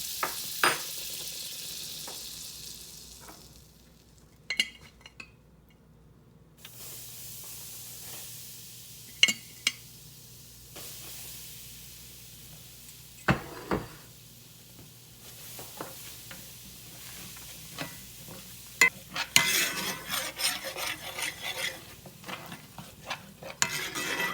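A spoon stirs and scrapes the bottom of a frying pan while gravy is made from the drippings left after frying canned-salmon patties. Irregular close scrapes and clinks sit over a steady sizzle, with no talking.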